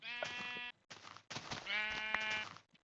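Sheep in a blocky survival video game gives a few bleats at close range, clear and fairly quiet, in short separated calls.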